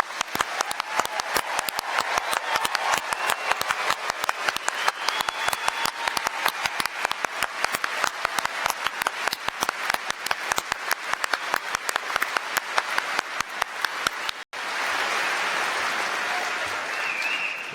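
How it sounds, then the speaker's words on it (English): A large commencement audience applauding graduates, a dense, sustained wash of clapping that runs steadily for about fourteen seconds before cutting off abruptly, followed by a softer, diffuse crowd murmur. "join me in a round of applause to congratulate"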